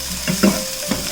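Chopped green chillies are stirred in a hot pan, with a soft sizzle of frying broken by a few scraping strokes of the spoon, close and fairly loud.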